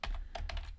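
Quick bursts of keystrokes on a computer keyboard as letters are typed, a short close run of crisp clicks in a quiet room.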